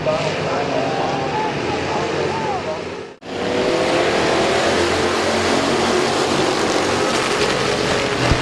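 Race cars roaring around the oval at Midvale Speedway, a dense continuous engine drone that cuts out briefly midway, then resumes loud and steady with commentary talk over it.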